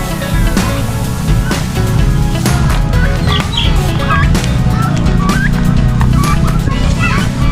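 A crowd of turkeys clucks and gobbles repeatedly, loud and close, over constant rumbling background noise; occasional higher warbling calls stand out.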